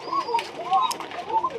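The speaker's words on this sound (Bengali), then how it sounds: "দেখতে পাচ্ছেন আমার কবুতরগুলো" Koka pigeons coo softly and repeatedly at close range while feeding, a few rounded rising-and-falling calls over a quiet background.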